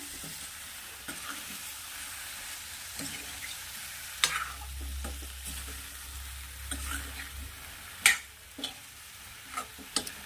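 Green brinjal sizzles in a pan of cooked masala as it is stirred in, a soft steady frying hiss broken by scraping and clinks from the spoon, louder toward the end.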